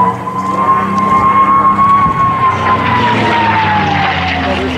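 A liquid-cooled P-51D Mustang piston engine roars loudly through a steep banked turn at an airshow, a sustained powerful drone with a tone that slowly bends downward as the aircraft sweeps past.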